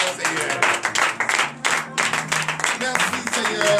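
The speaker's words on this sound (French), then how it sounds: "Donnez de vive acclamation au Seigneur" Bursts of clapping and applause from a congregation at a morning prayer service in Benin, uneven and pulsing, with voices speaking and calling out over it.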